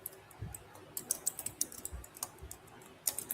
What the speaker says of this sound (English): what you typing, girl?